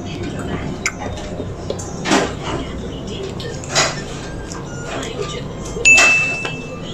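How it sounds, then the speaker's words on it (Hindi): A small bell rings out in a home kitchen in three separate metallic dings, the last one loudest and ringing longest, over steady background noise. "घंटी बज गई घंटी"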